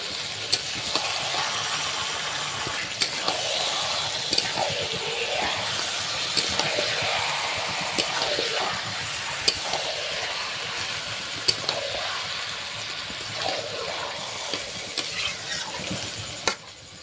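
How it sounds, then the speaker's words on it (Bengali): Broiler chicken meat sizzles in hot oil with spices and tomato while being stirred, a dense steady frying hiss with repeated scraping sweeps and occasional sharp knocks of the spoon against the pot. "এবার কিন্তু মাংসটা ঢেলে দেবো।"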